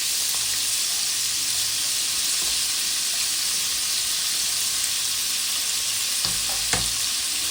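Paneer shallow frying in an open pan, a steady continuous sizzle of hot oil throughout with a few soft stirring knocks near the end, close and alone with no voices.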